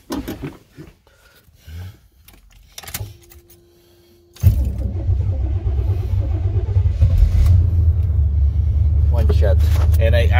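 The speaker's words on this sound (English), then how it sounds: "You want to hear the engine, that's the key to success." A 1989 Chevy Chinook camper van engine starts up partway through and keeps running with a steady, loud low rumble, after a stretch of quiet clicks and faint movement.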